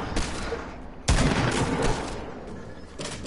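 Gunfire in the Fortnite video game: a loud burst of rapid shots with a sharp onset and a dense, crackling tail, then fainter trailing shots, with no talk over it.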